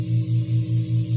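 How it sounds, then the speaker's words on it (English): Airbrush spray tan compressor running during a tanning session, a low pulsing hum with a steady rhythmic throb, close and moderately loud, alone without talk. "And what you hear right now is the compressor kicking in."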